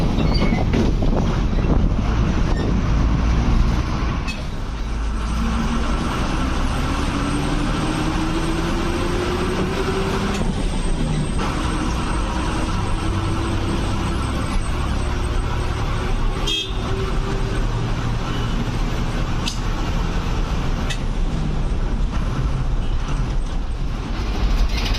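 KSRTC bus pulling out of Tenkasi bus stand, a loud steady engine rumble and road drone filling the whole stretch, with a rising whine as it gathers speed and a brief horn-like tone partway through.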